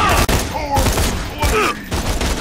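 Enemy gunfire in Borderlands 2, loud rapid bursts of shots cracking through a chaotic firefight, with brief electronic whines and tonal game effects layered between the volleys.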